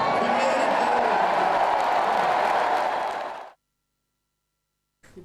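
A crowd claps at a political rally, a dense, loud, continuous wash of applause that suddenly cuts to silence, with a brief burst returning at the end.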